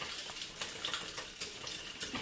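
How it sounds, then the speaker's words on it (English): A spoon stirs and scrapes through a thickening onion mixture in a pan, making a steady wet, hissy scraping with faint sizzling throughout. "This is starting to thicken up, so we want to keep stirring that."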